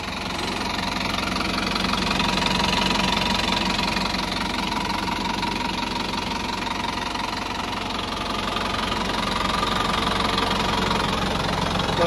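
A Massey Ferguson 2635 tractor engine runs at a steady idle on radial tyres, a loud, even diesel chug with a constant knocking throb from start to finish and no talking.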